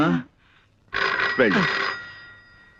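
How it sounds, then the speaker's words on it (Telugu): A telephone in a room rings with a sharp electronic bell tone that starts right after a brief voice and rings for about a second before fading. "వెళ్ళి ఆ గదిలో ఫోన్ తీసుకో."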